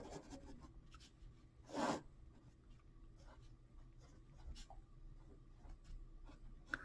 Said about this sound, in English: let me draw that again